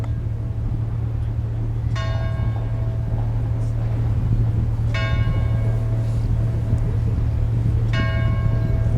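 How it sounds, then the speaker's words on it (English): A church bell in a castle chapel in Schwerin, Germany, strikes three times at even intervals over a steady low hum, each stroke ringing out and decaying. "Oh, the bell."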